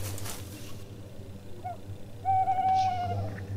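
Owl hooting in the video game The Last Crown, a soft low hoot early on then a clearer sustained hoot near the end, over a quiet dark ambient drone.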